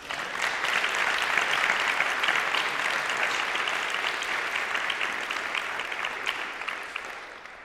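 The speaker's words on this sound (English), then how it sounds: "So please give him a round of applause." Crowd applause at a speaking event: a full, steady round of clapping from many hands that holds for several seconds and then begins to taper off at the end.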